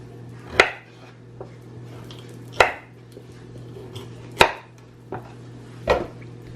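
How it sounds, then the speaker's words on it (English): A knife chops through carrots on a cutting board, trimming off the ends: four sharp, evenly spaced cuts with a couple of lighter taps between, close and clear over a low steady hum. "The carrots as well, just cut the ends."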